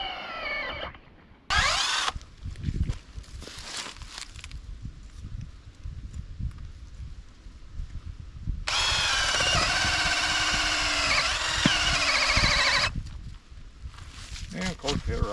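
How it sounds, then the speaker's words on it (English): A power drill with a 3/4 inch auger bit whines in bursts, drilling holes in the ground to set a coyote trap, with a long sustained stretch of drilling in the middle, amid knocking and handling noises. "I take a drill with a 3/4 inch auger bit"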